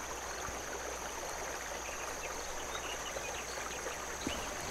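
Steady brook flowing in the video game The Night of the Rabbit, a continuous close rushing wash of water with faint insect-like chirps on top and no talk.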